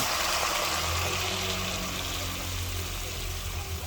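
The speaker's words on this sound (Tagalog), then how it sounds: "Lagyan na po natin mainit na tubig" Hot water poured into a cooking pot holding fried shrimp, a steady, close rushing splash that keeps going without a break.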